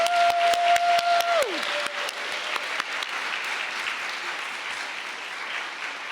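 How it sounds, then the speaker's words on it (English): An audience at an annual community prevention awards ceremony applauds the awardees, with dense, sustained clapping that starts strong and gradually thins toward the end. Something else plays briefly at the start. "please join me in a round of applause for the 2025 Roots of Prevention awardees"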